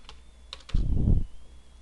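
A short burst of computer keyboard keystrokes, typed while entering commands to draft a floor plan, sounds close and clicky against a quiet background.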